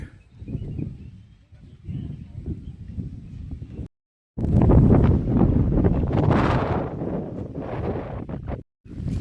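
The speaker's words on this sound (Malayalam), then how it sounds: "നല്ല കാറ്റ്" Strong wind at Parunthumpara in the hills of Idukki, Kerala, buffets the microphone in loud, roaring gusts, dropping briefly to near silence before surging again; no talking.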